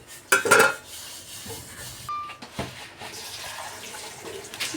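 Metal spoon clanking against a pot while sambar with tamarind water is stirred, a loud burst of scraping and knocks early on, then softer intermittent clinks and sloshing.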